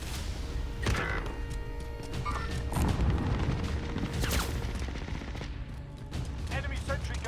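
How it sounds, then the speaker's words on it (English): Rapid automatic gunfire from an enemy sentry gun in the video game Warzone, with bursts, sharp booms and mechanical clanks close by, a voice talking over part of it. "Enemy sentry gun active."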